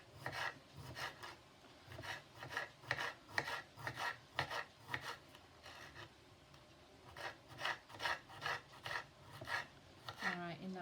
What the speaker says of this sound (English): I'm going to slice it up so finely and keep turning that around